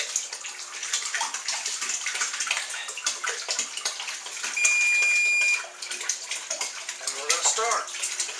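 Sanitizer solution pours out of a one-gallon container being emptied for cider making, a continuous close splashing gush with gurgles toward the end.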